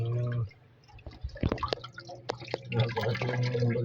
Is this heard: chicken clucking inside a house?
no